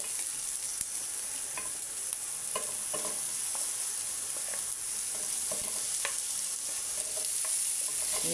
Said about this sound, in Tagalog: Haluin lang po ng konti para mabalot siya ng oil.